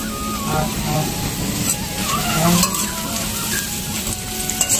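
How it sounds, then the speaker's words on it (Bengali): Dried lentil dumplings frying in a pan, a close crackling sizzle mixed with a low background rumble, with a person talking over it. "এখানে বড়ি ভাজতে বসিয়েছি"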